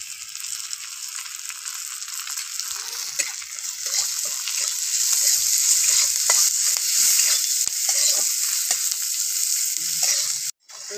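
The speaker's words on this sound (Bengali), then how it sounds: "পেঁয়াজটা লাল করে ভাজা হয়ে গেছে।" Onion and chopped green chilli frying in hot oil in a home kitchen, a steady bright sizzle with repeated scraping strokes of a stirring spoon, close and continuous, ending in a brief pause.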